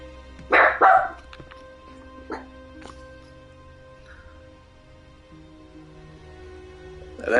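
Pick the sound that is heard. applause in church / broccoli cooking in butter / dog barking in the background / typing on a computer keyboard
dog barking in the background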